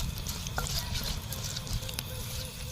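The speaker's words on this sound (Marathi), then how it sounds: "आता तेजपत्ता टाकणार आहोत आता आपण याला परतून घेऊया" Bay leaf sizzles in hot oil in a clay pot, a soft crackling patter with scattered pops and stirring scrapes, close and fairly quiet.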